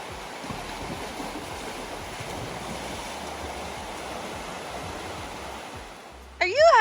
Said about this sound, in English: there is a creek going through it, which you might hear in the background